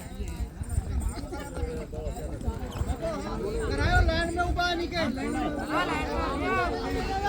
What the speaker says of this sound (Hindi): 2-3 घोड़े आए इसीलिए थोड़े घोड़े वाले ने रुकना पड़ा, क्योंकि काफ़ी घोड़े हैं इधर रेस में।